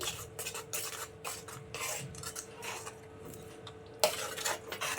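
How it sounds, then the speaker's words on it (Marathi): A spoon stirs a mango barfi mixture of Hapus mango, powdered sugar and cardamom powder in a pan, giving faint, repeated scraping and clinking strokes with a louder scrape near the end. "आणि मस्त ढवळून घेऊया"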